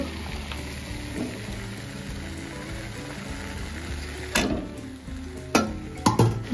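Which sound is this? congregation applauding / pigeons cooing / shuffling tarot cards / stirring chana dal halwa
stirring chana dal halwa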